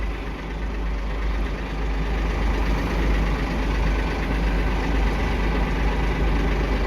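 A front end loader's diesel engine runs continuously, a steady low rumble close by with no talking over it.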